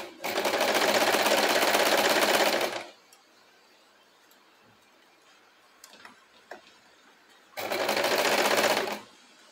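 A sewing machine stitches fabric in two loud, rapid buzzing bursts a few seconds long, separated by a quiet pause with small handling clicks.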